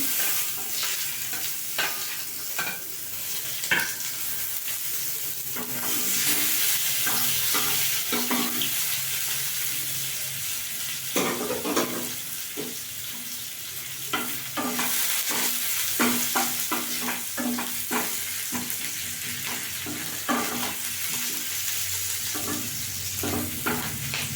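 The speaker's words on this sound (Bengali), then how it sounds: "পেঁয়াজটা একটু ভেজে নেবো" Chopped onion frying in a pan with oil and five-spice seeds, a steady close sizzle broken by repeated scraping stirs of a spatula, loudest in the middle stretch.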